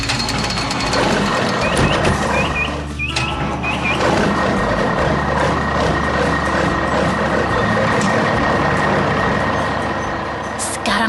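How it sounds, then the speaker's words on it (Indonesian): A garbage truck at a construction site grinds along with a loud, steady diesel rumble, while repeated high reversing beeps chirp over it in short regular pulses, close by. "Sekarang truk itu bergerak menuju taman bermain untuk menumpahkan muatannya"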